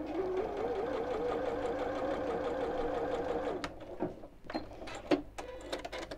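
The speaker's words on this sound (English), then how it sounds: "I'm just going to sew a little way around here" A sewing machine runs a steady, fast stitch around a fabric wine glass coaster for several seconds, then stops, leaving scattered handling clicks and rustles nearby.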